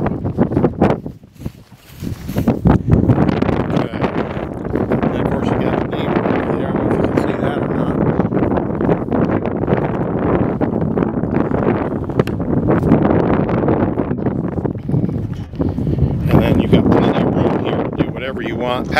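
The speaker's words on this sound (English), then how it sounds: "Again, it's pretty windy, but we're gonna tough it out." Strong wind gusting across an open horse farm in Kentucky near a barn, a loud continuous broadband rush buffeting the microphone with brief lulls, with people talking faintly underneath.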